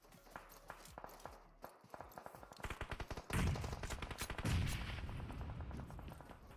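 Rapid bursts of automatic gunfire in PUBG Mobile, first scattered shots, then dense, loud volleys that hammer away at a vehicle during the final part of a match.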